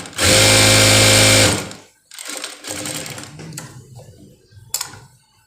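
A sewing machine stitches a size-34 blouse with four tucks in one loud, steady burst of about a second and a half, then stops. Fabric handling and soft rustling follow.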